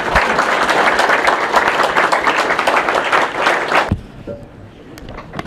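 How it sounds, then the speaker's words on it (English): An audience gives a loud, dense round of applause for a professor after a talk, sustained for about four seconds before cutting off abruptly into quiet room sound. "let's get a big round of applause for Professor Ruan O'Donnell."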